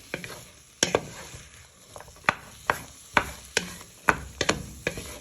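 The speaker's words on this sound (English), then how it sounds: "Stir this for a few minutes till they get colour all around the pan." Beef madras with spices is stirred in a sizzling pan, a spoon scraping the bottom in regular, sharp strokes about twice a second over a soft frying hiss, close and clear.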